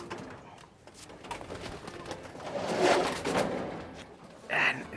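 A captured pigeon coos softly in short low murmurs, fairly close but faint against background rustling, with a brief brighter call near the end.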